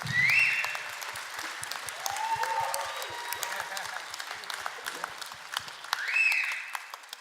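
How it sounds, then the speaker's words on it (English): Audience applause fills the hall at the 2017 Manitoba Country Music Awards: steady, moderately loud clapping with a few high whistles near the start and end, and some voices faintly underneath. "let's get a big round of applause for everybody who worked so hard for tonight"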